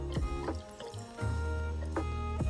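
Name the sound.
milk poured into a glass of iced matcha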